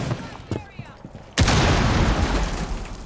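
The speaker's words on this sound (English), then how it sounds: "And grenades are coming." Grenade blasts and gunfire in the Rainbow Six Siege video game: faint scattered pops and a voice early on, then one loud close explosion that rolls into a sustained, dense roar of blasts and shots.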